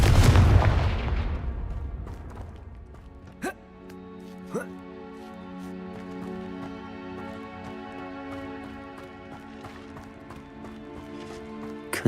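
Confringo fire spell blasts in Hogwarts Legacy: a loud burst at the start, then sharp impacts over a sustained magical hum, with a voice calling out.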